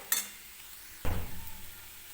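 Potato filling for kat vada sautéed in a pan, a brief scrape of the spoon followed by a louder stirring, sizzling swish that fades off, close and fairly quiet.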